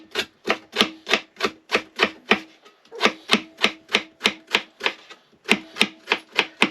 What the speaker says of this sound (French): on coupe des petites rondelles